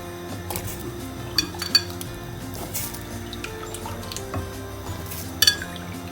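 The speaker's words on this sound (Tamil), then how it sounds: "அதுக்கப்புறமா வெட்டி வச்சுருக்க கிழங்கையும் இதில் சேர்த்துக்கலாம்." Chopped potatoes dropped into a pot of leek soup, with scattered light clinks and knocks of utensil against metal and a few soft thuds, close by and without voices.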